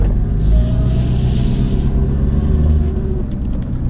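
A 6.7 Powerstroke diesel pickup truck pulls away gently, its deep low engine rumble steady and close, with a faint rising tone as it eases forward.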